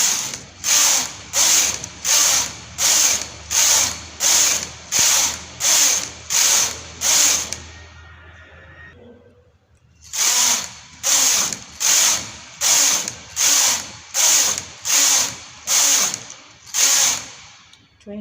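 A knitting machine carriage slides back and forth knitting rows of a newborn baby hat, making a regular series of loud rasping swooshes, about one per second, with a pause partway through before the passes resume in the same steady rhythm.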